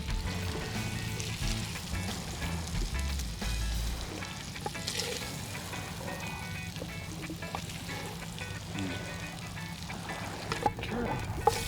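Vegetables frying in oil in a pan for jambalaya cooked on a beach, a steady close sizzle and crackle that runs throughout with occasional louder pops, while people talk nearby.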